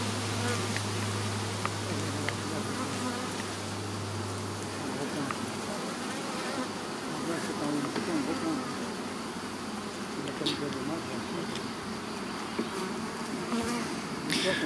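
A dense, steady buzz of many honeybees at an open hive in the Drôme des Collines hums continuously close by, with a low drone underneath.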